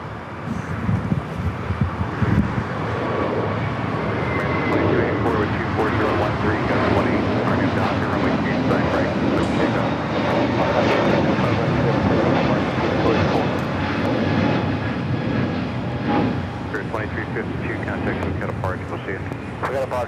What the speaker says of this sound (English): Going to another Spirit flight, taking off 25 that right